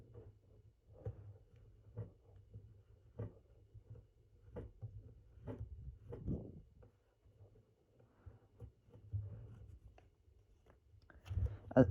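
Paper is folded into an origami jet, with soft crinkles, taps and creasing rubs at close range, quiet and intermittent, growing louder in a final burst of handling.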